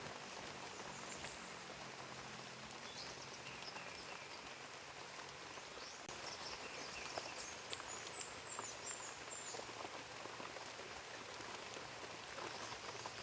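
Steady rain falling outdoors on a farm where jackfruit seedlings are being planted, a continuous soft hiss with faint birdsong in the background.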